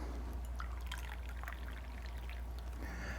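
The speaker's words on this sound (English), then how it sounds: "I'm going to give myself a fresh pour right now" Coffee poured into a cup, a steady soft liquid stream with trickling over a constant low hum, fairly faint and continuous throughout.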